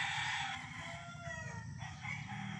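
A Sweater gamefowl rooster of the Pure Raptor line crows once on a farm, a drawn-out call rising then trailing off over a constant background hum, moderately close but not loud.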